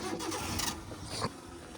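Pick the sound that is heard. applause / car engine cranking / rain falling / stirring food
car engine cranking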